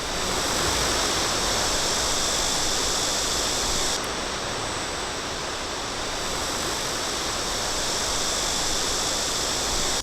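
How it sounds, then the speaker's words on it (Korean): The 80 m high Wongol artificial waterfall, a loud, continuous broadband roar of falling water that stays steady and dense throughout, with no voices. "바로 원골 인공 폭포인데요. 높이 80m를 자랑하는 인공 폭포라고 합니다."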